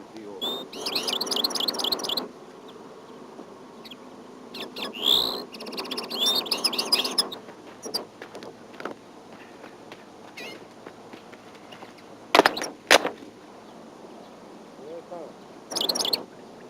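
Decoy linnets chirp and call in short bursts from cages during a wild-bird trapping session, brief twittering phrases separated by pauses over a low outdoor background.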